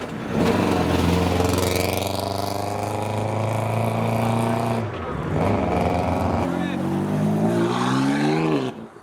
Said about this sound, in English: Here comes James Martin in the Subaru.